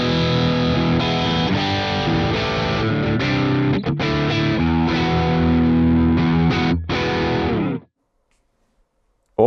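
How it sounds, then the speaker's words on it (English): Guitar into the amp of Archetype Plini X, driven harder by a raised compressor level, giving a thick, saturated distorted tone with brief breaks between phrases, stopping at about eight seconds, then silence. "Increasing this level can drive the amp even further."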